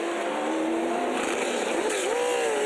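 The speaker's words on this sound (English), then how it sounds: "Oh, big lock up and down the escape road he goes, over and out." Supercars race car on a street circuit at turn 2, locking its brakes and sliding into the escape road: a loud, steady engine note with a squealing tone that bends and shifts, and a voice faintly under it.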